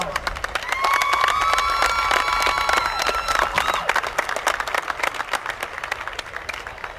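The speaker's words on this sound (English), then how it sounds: "Let's give them one more big round of applause." Crowd applause and cheering for the Glendale Raptors rugby team after a match, a steady dense patter of clapping sustained throughout with scattered shouts and whistles over it.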